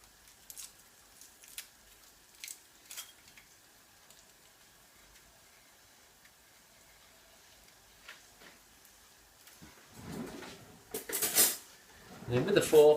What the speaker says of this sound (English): And then with the fork, get that all mixed in.